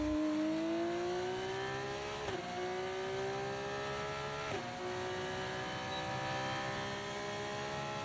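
An F1 race car engine in the F1 24 video game, screaming at high pitch and climbing steadily through the gears, with two sharp upshifts punctuating a continuous whine under a faint background hum.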